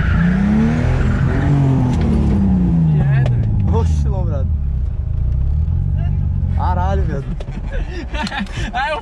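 A BMW turbo car revs hard nearby, its engine pitch sweeping up and down through gear changes with tire squeal and skidding, while people talk loudly over it toward the end.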